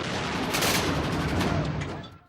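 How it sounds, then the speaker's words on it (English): A volley of musket gunshots rings out at a Revolutionary War battle reenactment at the North Bridge, a loud, dense crackle of overlapping reports lasting about two seconds before tailing off. "shots are fired"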